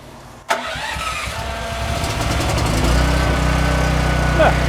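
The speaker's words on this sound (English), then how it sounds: "So I'm going to hit start, and I'm just going to let this guy try to start up." A DuroMax XP15000HXT+ carburetor-free generator cranks once and catches, its engine settling into a steady, loud running drone that holds close and even to the end.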